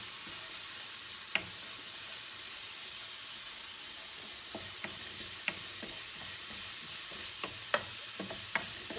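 Ground ginger and garlic frying together in a pan, a steady soft sizzle with occasional sharp clicks of a utensil stirring and scraping, close and with no voices.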